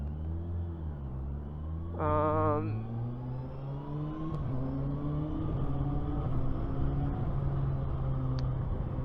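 A motorcycle engine runs steadily and rises in pitch as it accelerates, with a rider talking over it throughout.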